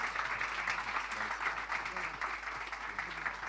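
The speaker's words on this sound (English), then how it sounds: "A big round of applause, ladies and gentlemen." Audience applause at a trailer launch event for a cricketer biopic, a steady wash of clapping from a large crowd held at moderate level throughout, with faint voices mixed underneath.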